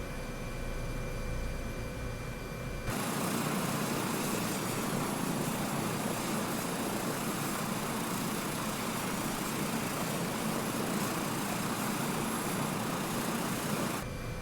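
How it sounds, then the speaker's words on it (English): A helicopter in flight over the Nubra Valley, heard from inside as a steady, loud broadband roar of engine and rotor that swells in abruptly after a quieter opening and holds constant to the end. "But I'm enjoying flying this helicopter."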